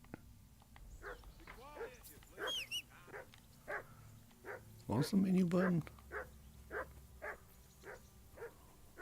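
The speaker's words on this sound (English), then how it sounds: "that barking's driving me nuts" A dog in a video game barks repeatedly in short, regular yaps under a man's speech, with a louder burst of barking partway through.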